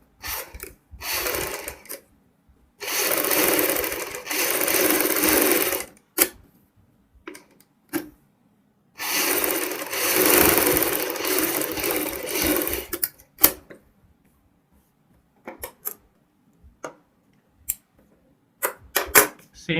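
Sewing machine stitching fabric in several bursts, close and clear, with rapid needle clatter during each run separated by pauses and a few short taps and clicks between stitches.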